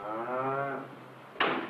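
A milk cow on a wheat farm gives a single close, loud, harmonically rich moo lasting under a second, followed by a brief wooden knock; no talking.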